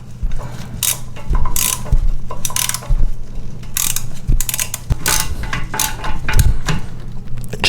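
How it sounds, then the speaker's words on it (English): A ratchet wrench tightens a rusted toilet tank bolt over a metal washer, giving a loud, continuous run of rapid metallic clicking and grinding up close, with no talking. "Now take your ratchet and tighten it down."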